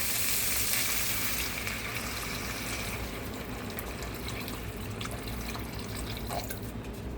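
Water hits a hot pan with a loud hiss that quickly settles into a steady, softer sizzle and bubbling.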